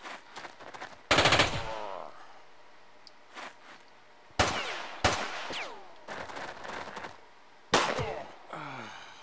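Bursts of gunfire erupt in the video game Jagged Alliance 2, with several loud, close volleys separated by short quiet gaps and ringing echoes trailing after each burst.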